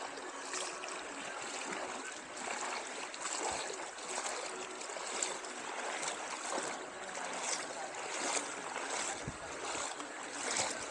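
Cool water trickles and flows underfoot along a cave stream, a continuous splashy rush with irregular small splashes and ripples as someone wades through, moderately close, with no talking.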